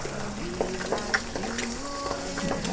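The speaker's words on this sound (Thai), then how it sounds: "เราก็เอาไข่ที่เราเตรียมวันนี้ ทอดลงไปก่อน ทอดไข่ให้สุกก่อนนะคะ" Eggs fry in a pan for a Thai stir-fried egg and chili dish: a soft, steady sizzle with light stirring and a few utensil taps, plus faint tonal sounds in the background.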